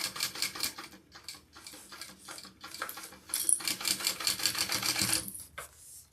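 A sewing machine stitches a long basting stitch on lining fabric in rhythmic bursts, pausing briefly between runs, then running faster and louder before stopping near the end.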